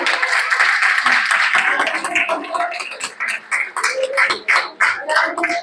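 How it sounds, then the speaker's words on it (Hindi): Applause from the audience at a JCI Raipur Metro event honouring women in Vrindavan Hall, steady close clapping that breaks into uneven patches and mixes with voices toward the end. "जोरदार तालियां हो गई"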